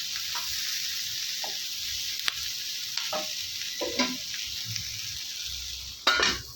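Chopped brinjal sautés in a pan for chutney, a steady sizzle broken by several clinks and scrapes of a spoon stirring against the pan, the loudest knock near the end.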